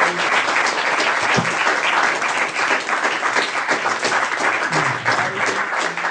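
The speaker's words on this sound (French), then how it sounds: "on va d'abord applaudir Patrick Osmond" Crowd at a fan convention applauding the arrival of French voice actor Patrick Osmond, a thick, continuous wash of clapping that stays loud and uniform throughout.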